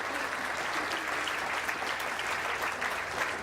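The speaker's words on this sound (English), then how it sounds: "Round of applause." Audience applause during a State of the City address, a full room clapping steadily and evenly for several seconds with no speech on top.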